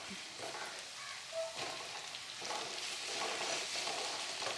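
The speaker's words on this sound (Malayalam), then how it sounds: "വെണ്ടയ്ക്ക കുറച്ച് നേരം എണ്ണയ്ക്കകത്ത് ഇങ്ങനെ വഴറ്റുമ്പോഴത്തേക്കും അതിൻ്റെ ഇഴുക്കലൊക്കെ പോയി കിട്ടും" Okra and onion sautéing in oil in a pan, a steady close sizzle and frying hiss with occasional stirring scrapes, moderately quiet and continuous throughout.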